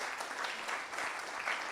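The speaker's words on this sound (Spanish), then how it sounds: "Denle un aplauso a Jesucristo" A church congregation applauds together in a steady, dense burst of clapping that fills the room at moderate loudness.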